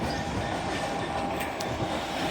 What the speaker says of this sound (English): Passing through now is a GBRF Class 66 working a service from Hepscott Junction to Carlisle North Yard